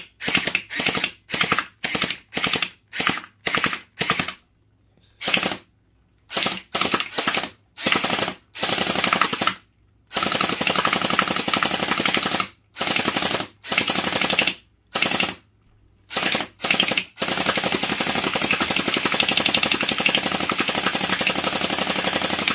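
An HT Mini M4 Raptor gel blaster fires in rapid bursts, with loud close buzzing volleys broken by short gaps and then a long unbroken stream of continuous fire.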